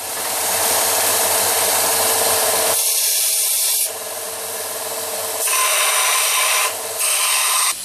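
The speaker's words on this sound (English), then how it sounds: "I'm going to put it on the other grinder now to get a better shape." A grinder shapes the blade of a homemade custom hunting knife, giving a loud continuous abrasive rasp broken by several short pauses as the steel is lifted and pressed back to the wheel.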